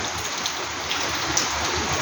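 Steady rain falls continuously, a dense even hiss of drops hitting surfaces near a family home, with no talk and no pauses.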